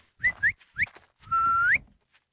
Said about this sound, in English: I don't know how to whistle for dogs, but that's what I'm trying to do.